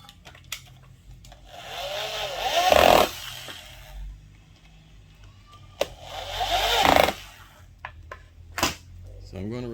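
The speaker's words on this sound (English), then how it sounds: "I can go ahead and lock down my screws." A power drill driving screws into privacy fence picket wood for a raised bed, two whirring bursts that rise in pitch and bite in, with short clicks and handling noises between them.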